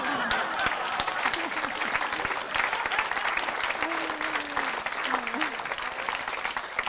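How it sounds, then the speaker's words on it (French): A theatre audience at a comedy show applauds warmly, sustained clapping throughout while a performer speaks over it. "On dit ça à chaque fois ils applaudissent."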